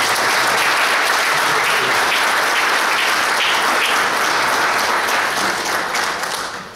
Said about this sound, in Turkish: abilerimize isterseniz bir alkışlayalım